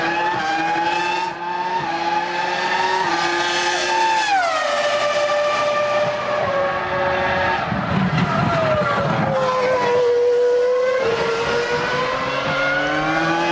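A 2002 Formula 1 Ferrari at the San Marino Grand Prix, its high-revving engine screaming close and loud as pitch climbs, drops through gearshifts and rises again, with a whine sweeping down as the car passes, continuous throughout.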